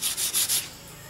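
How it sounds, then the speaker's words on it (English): A Scotch-Brite pad rubs over the pieces of a fused twisty puzzle cube, smoothing and rounding them off in three or four quick, close strokes before fading into quiet. "round off and smoothen out the pieces a little bit with some Scotch Brite"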